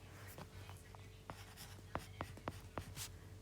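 Pen strokes on paper while a graph is sketched for a maths exam lesson, a run of quiet scratching taps and short strokes, close and faint, with no talk.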